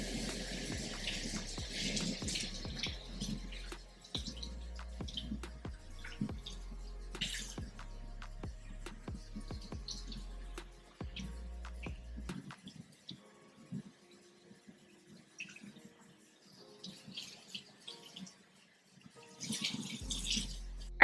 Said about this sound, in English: It's hot, so I just have to rinse this out my head.